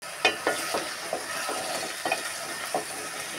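Fish with potato, flat beans and tomato stirred in a hot pan: a steady oily sizzle with a run of spoon scrapes and knocks at a loose, uneven rhythm, close and clear.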